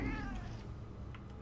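A cat meows in the video game Murdered: Soul Suspect, one drawn-out, falling cry up close at the start that trails off into a quiet room tone.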